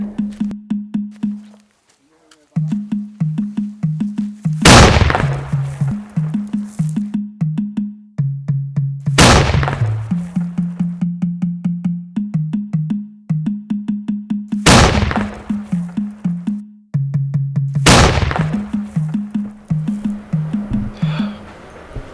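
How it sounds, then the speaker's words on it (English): Cannon fire in a Nigerian movie scene, four loud booming blasts spaced several seconds apart, each with a sharp broadband crack and decaying tail, over a steady rhythmic drum pattern playing throughout. "and now the cannon."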